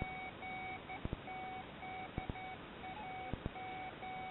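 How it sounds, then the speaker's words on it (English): A Taranis radio transmitter's variometer gives short, faint electronic beeps at irregular intervals, with a few soft clicks between them, against quiet background hiss. "So an occasional sort of bleep, but not entirely clear what's going on."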